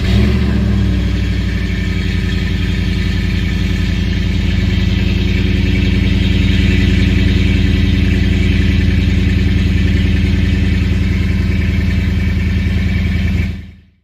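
A first-generation Ford Raptor's 6.2 liter V8 rumbles steadily at idle and light revs, a loud, continuous deep engine drone with no talk, cutting off abruptly at the end.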